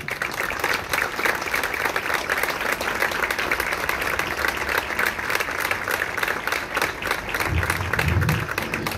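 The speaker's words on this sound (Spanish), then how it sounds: "elevemos un aplauso" Sustained applause from the audience at a municipal anniversary ceremony, many hands clapping steadily and evenly for the full stretch at moderate loudness, with a faint voice starting near the end.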